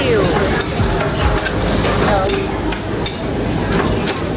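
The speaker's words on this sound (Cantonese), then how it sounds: "呢一個係即叫即炒，鑊氣滿滿嘅鐵板燒" Made-to-order stir-fried noodles with vegetables and egg sizzle loudly on a teppanyaki griddle in a busy Shenzhen mall food court, a steady hiss with scraping and clatter under crowd chatter.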